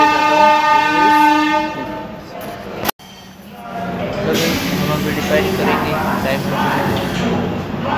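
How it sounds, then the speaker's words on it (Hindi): The Deccan Queen Express leaves Pune station with a long, loud, sustained horn blast. After a brief cut comes a broad rolling rumble of rail cars and station noise, with people talking nearby. "अभी हमारी ट्रेन अभी निकलने वाली है"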